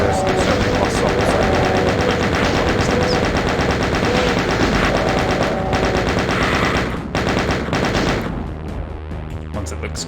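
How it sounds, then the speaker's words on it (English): A chain gun in Doom (1993) fires continuously, a loud, rapid stream of rattling shots that hardly pauses, with other game effects mixed in toward the end. "Probably a better idea to use the chain gun here, actually."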